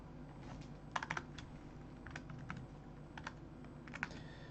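Keystrokes on a computer keyboard as math is typed in, arriving in short irregular bursts and single taps over a steady low background hum, with no voices.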